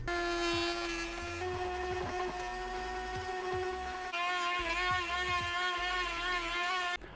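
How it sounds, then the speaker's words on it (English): A high-pitched Dremel rotary tool whines steadily while trimming a plastic logo on a 2016-2018 Ford Focus RS, its pitch shifting slightly as it bites into the material. "we're gonna use a Dremel here to really get some fine tuning to be able to trim the logo out"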